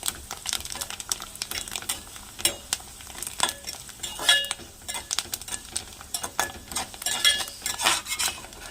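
Curry leaves fry in a pan for ginger rice, with a moderate crackling sizzle broken by irregular scrapes and taps of a spoon stirring against the metal. No one talks.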